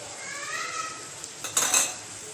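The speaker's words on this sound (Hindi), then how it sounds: "मटन को अच्छे से तेल में भून लेंगे।" Mutton stirred and fried in oil in a pot for aloo gosht salan: a soft, steady sizzle with a few clinks and scrapes of a spoon against the metal near the end.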